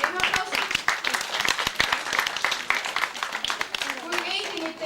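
A crowd at an Estonian village day claps for a school graduate, dense lively applause from many hands that carries on throughout, with a voice now and then above it.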